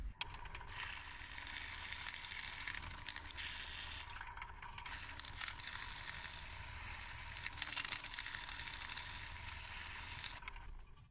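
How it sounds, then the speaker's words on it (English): Sandpaper held against blackened horse chestnut burl spinning on a wood lathe gives a steady, rough hissing scrape over the lathe's hum, continuous for several seconds with a few brief pauses and no talking. "what we're going to do now is we're going to sand it back"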